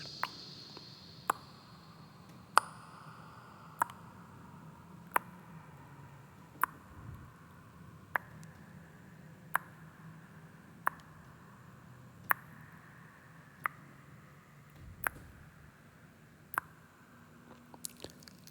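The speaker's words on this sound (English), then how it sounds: "You hear the sound of water as it drips from crystal-tipped stalactites." Water drips from crystal-tipped stalactites inside a cavern, sharp single drops falling at a steady, roughly even pace about once every second or so, close and distinct over a soft low hum.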